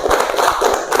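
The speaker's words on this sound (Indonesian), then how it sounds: "tepuk tangan untuk temannya" Classroom applause for a group of classmates, a burst of many hands clapping steadily and fairly loud for about a second, with no voices over it.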